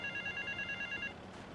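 A phone booth rings in GTA Vice City Definitive Edition: a rapid electronic trill pulses for about a second, clear and close, then cuts off.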